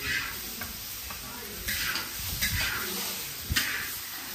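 Eggs being stir-fried in a big wok over a rural cooking stove, with a soft, steady sizzle and several clinks and scrapes from stirring, fairly quiet throughout.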